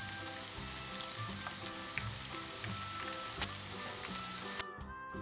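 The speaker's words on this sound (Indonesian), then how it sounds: "goreng mie lidi hingga kuning kecoklatan" Steady sizzle of mie lidi (thin noodle sticks) frying in hot oil until golden brown, a dense crackling hiss with scattered pops, close and continuous until it drops off near the end.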